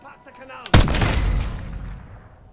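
A single loud gunshot booms in a Black Ops 6 campaign mission, a sharp close blast after a quiet moment, followed by a long rumbling tail that slowly fades.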